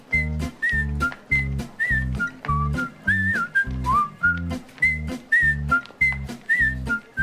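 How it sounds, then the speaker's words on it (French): A woman whistles a bouncy tune in a Scrubs scene, the clear, high melodic notes sitting over a steady rhythmic musical backing with regular low beats, close and prominent throughout. "Ce qui m'embête le plus, c'est quand elle siffle."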